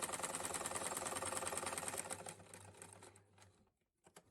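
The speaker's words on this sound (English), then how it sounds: "We're going to take them to the sewing machine and sew them all together." A sewing machine stitches fabric strips together in a quick, steady mechanical whir for about three seconds, then slows and stops, leaving a few faint clicks, with no talking.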